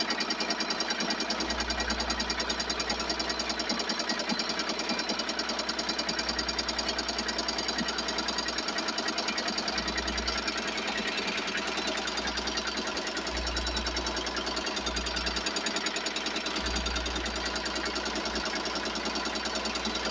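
A Tajima Sai embroidery machine stitches a baby cap at 600 stitches per minute, a continuous close mechanical chatter with a fast rhythmic needle pulse and occasional low thumping swells underneath.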